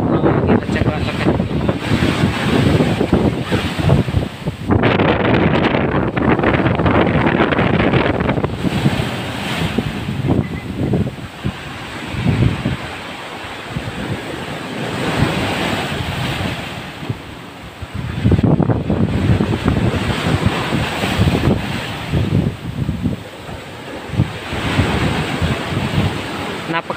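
Powerful wind and crashing sea waves on a beach during a storm, with the surf eating away the sand, a loud continuous roar of buffeting gusts and surging water that rises and falls in long swells.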